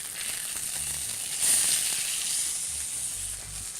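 Alaska sockeye salmon fillets cook skin side down in a hot pan, giving off a soft, even sizzle and hiss that swells briefly partway through, with no talking.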